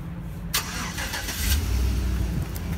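A 2012 GMC Yukon SLT SUV fires up by remote start, a sharp crank at the outset settling into a steady, close engine idle with a low rumble that swells slightly toward the end.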